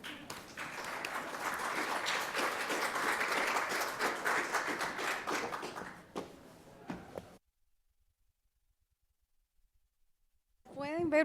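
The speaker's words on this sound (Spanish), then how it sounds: "La recibimos con un fuerte aplauso" Audience applause welcoming someone speaker to the stage at a university-linked presentation, steady broadband clapping for about seven seconds that fades into silence, then a voice begins.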